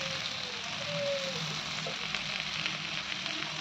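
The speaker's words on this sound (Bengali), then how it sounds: "ভালো ভালো করে নাড়িয়ে নিচ্ছি নাহলে গলার দিকে লেগে যাবে" Taro stolons and prawns fry in a pan while being stirred, a steady, fairly quiet sizzle with a few faint scrapes and a brief clatter at the end.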